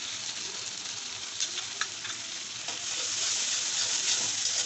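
Bay leaf, cumin and cashew paste frying in a pan for a pointed gourd roast, a dense bright sizzle with a few light utensil clicks, swelling slightly louder toward the end, no speech.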